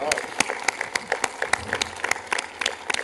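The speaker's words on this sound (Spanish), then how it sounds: "debemos darles un aplauso" An audience at a Mexican geek convention panel claps, with distinct, uneven individual claps rising out of a lighter ripple of applause, while people speak over it.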